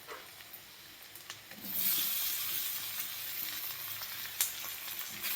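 Cut potatoes hit a hot pan of turmeric-spiced oil for a yellow potato bhaji, bursting into a loud, steady sizzle and frying hiss after a quieter start, with a brief stir clatter near the end.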